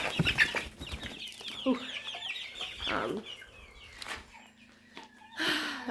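Backyard chickens cluck and call nearby in irregular bursts, with a drawn-out squawk and softer murmurs, plus faint footsteps and rustling.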